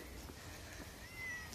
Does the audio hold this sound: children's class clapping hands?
no